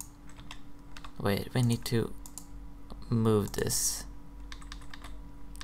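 Someone types on a computer keyboard with scattered, quick clicks that run steadily beneath a person speaking in short bursts nearby.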